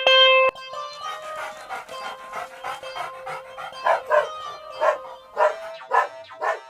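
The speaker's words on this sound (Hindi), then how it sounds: "क्यों भौंक रहे हो?" A dog in an animated Hindi folk tale, digging in a farm field, gives a series of short, rhythmic yelping barks and pants after a brief tonal sting, moderately close and loud.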